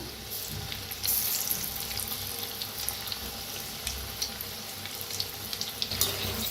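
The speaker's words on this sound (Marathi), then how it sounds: "बघा किती छान असं भाजायला लागले ते तळायला लागले तेलात" Crispy chana vadas fry in hot oil with a steady, close bubbling sizzle and crackle that holds throughout, with brief sharper spits now and then and no voices.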